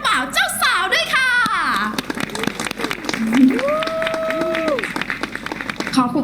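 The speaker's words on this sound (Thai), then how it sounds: "ขอเสียงปรบมือให้เจ้าบ่าวเจ้าสาวด้วยค่ะ" Guests applaud the bride and groom at a wedding, a scattered patter of clapping running beneath people talking and other tonal sounds.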